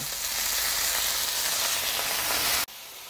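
Thuthuvalai leaves sauté in a hot pan with a loud, dense, close sizzle that holds steady, then drops suddenly to a faint hiss near the end.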